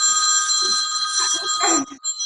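A mobile phone rings with a steady, bright electronic tone that plays continuously and fairly loud, then briefly cuts out and resumes near the end.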